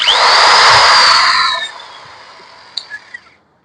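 A Dongcheng 13mm cordless impact drill with a metal gearbox spins up with a sharp whine, runs briefly, then winds down, followed by a few small clicks.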